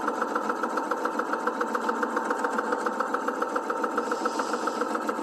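A sewing machine runs steadily, stitching a single layer of fabric for bloomers, its needle clattering in a fast even rhythm close by with no pauses and no talk.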